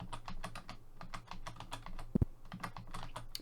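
Close, steady typing on a computer keyboard during a retro D&D computer game session, rapid irregular clacks with a louder double strike near the middle and a low hum underneath.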